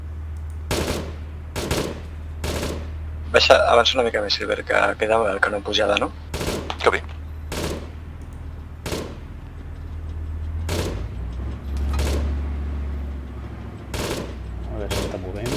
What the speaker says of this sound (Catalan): podeu disparar a la carretera principal si voleu